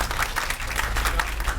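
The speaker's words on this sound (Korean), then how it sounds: "신철호 교수님 큰 박수로 환영해 주시기 바라겠습니다" A seminar audience claps to welcome a professor on a shipboard forum, dense continuous applause over a short stretch, fairly loud with a low rumble beneath.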